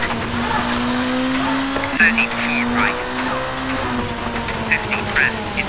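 Rally car engine revving and shifting in Colin McRae Rally 2.0 on a Finland stage, with a sustained drone broken by brief tire squeals, while a voice talks over it.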